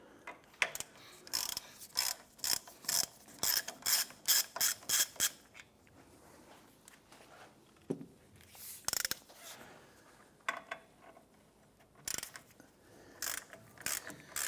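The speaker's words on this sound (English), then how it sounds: "I'm going to remove the bottom bolt first." A hand ratchet loosening the bottom bolt on a 2015–2020 Cadillac Escalade front brake caliper: rapid bursts of metallic clicking in quick runs, pausing, then resuming in shorter bursts, close and crisp with no voices.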